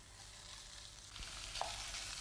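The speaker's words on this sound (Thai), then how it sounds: "ผัดให้กุ้งสุกนะคะ" Minced pork and fresh shrimp stir-fried with sator beans and shrimp paste in a pan: a steady close sizzle with faint scraping stirs and a couple of light utensil clinks, no talking.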